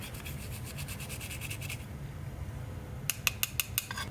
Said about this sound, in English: I feel like I keep scraping and things come up